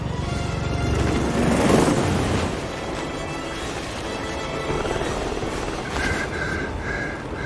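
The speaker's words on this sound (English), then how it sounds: "Alexa Carlisle's helicopter just took off." A helicopter taking off in the video game Hitman 3 in Dubai, a loud, rumbling rotor and engine roar that swells in the first seconds and then holds steady with some whining tones near the end.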